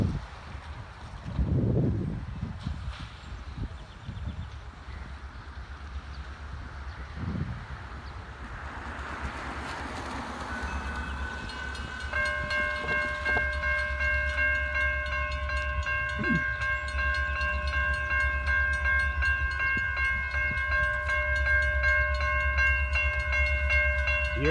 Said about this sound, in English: Here comes the Norfolk Southern, guys!